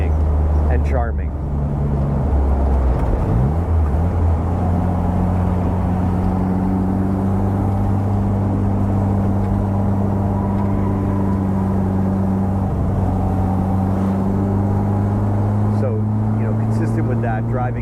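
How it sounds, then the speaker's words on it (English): A 1960 Bugeye Sprite with a 948 engine and bias-ply tires drones loudly and steadily from inside the car, its engine note holding a low, even hum that shifts pitch slightly with speed while wind noise runs beneath it. "Driving this car with bias plies and a 948 engine, it's a very different experience."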